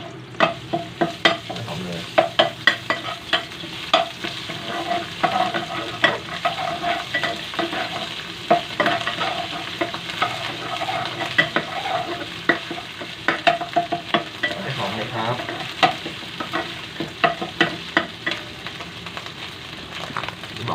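Shallots and curry paste are stir-fried in a pot, a continuous crackling sizzle punctuated by rhythmic scraping and clanking of a spatula against the metal, repeating steadily throughout.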